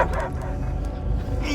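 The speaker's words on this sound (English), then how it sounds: "I hear only barking." Dog barking in the Guardians of the Galaxy video game, a few faint short yips and barks over a low game background hum, with a hint of voice.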